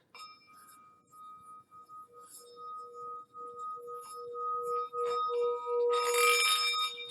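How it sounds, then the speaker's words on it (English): A singing bowl hums with a sustained ringing tone, then breaks into a bright, buzzing metallic rattle as the striker chatters against the rim. "That rattle right there, when it's done super, super small, that's where it's hitting the bowl"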